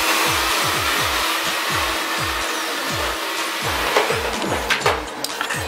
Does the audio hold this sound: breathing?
no